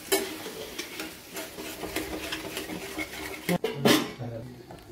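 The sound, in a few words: stirring egg bhurji frying in a pan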